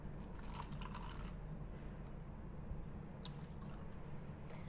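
Cooled boiled water is poured quietly into a paper cup holding paint glaze, a soft, steady trickle with small drip-like splashes.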